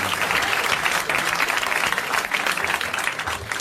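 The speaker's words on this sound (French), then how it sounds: "Nous l'applaudissons." TV studio audience applauding a game show contestant in 1981, dense steady clapping throughout, loud and close with no break.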